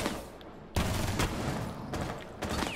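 Shotgun blasts in a video game, a few loud, sharp bursts of fire cutting through a steady noisy gunfight backdrop, with no speech.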